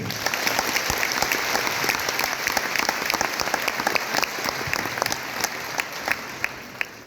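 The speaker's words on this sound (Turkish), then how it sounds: "onlar için de bir alkış alabilirim" A large audience at the Pantene Golden Butterfly awards ceremony applauds, sustained dense clapping with sharp individual claps standing out, continuing steadily throughout.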